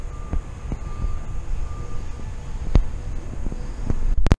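A constant loud rumbling drone of a Harbor Freight vibratory media tumbler cleaning motorcycle hardware, rattling contents, steady and close, with a faint intermittent beep and a clunk at the end.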